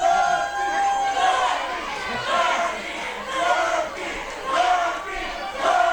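A pro wrestling arena crowd in central Illinois roars with sustained cheering and shouting, split between sides, with rising swells of battle-cry yells over steady crowd noise, loud and close throughout.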